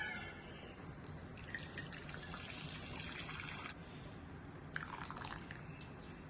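Water from cooked kumuti spinach greens drains off in a faint, steady trickle with scattered drips, quiet and close against a soft background hiss.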